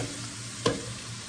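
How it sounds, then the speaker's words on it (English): Carrots and cabbage sear in a hot pan with a steady close sizzle and one brief stir or scrape partway through. "now that I'm searing, just go ahead and add our carrots and cabbage"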